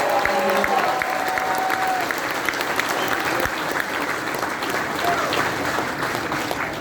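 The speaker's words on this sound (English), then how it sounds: "Give a round of applause to these great Common Sense Canadians." Sustained crowd applause at an outdoor Axe The Tax political rally with Pierre Poilievre, steady and dense for the whole stretch, with a few whistles and cheers rising over the clapping.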